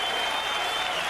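Boxing arena crowd at a Chris Byrd heavyweight fight applauding and cheering steadily as he raises his arms heading back to his corner, a dense wash of clapping and crowd noise throughout.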